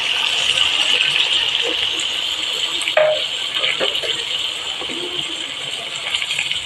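Water is poured into a pot of goat caldereta as a steady, fairly loud rushing hiss that runs unbroken, with faint clinks and brief voice-like sounds mixed in.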